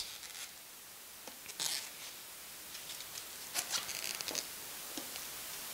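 Scissors snip off excess latex from a balloon during balloon-turkey crafting, a few quiet crisp cuts and rustles in short bursts against a faint background hiss.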